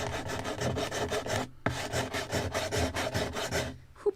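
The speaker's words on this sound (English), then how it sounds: "when you are sanding PVA, it gets warm and sticky to the sandpaper" Wood being sanded by hand on a Midwest Muscongus Bay lobster smack model kit, glue-smeared planking rubbed in a steady back-and-forth rasp of quick strokes, close and fairly loud, with one brief pause midway.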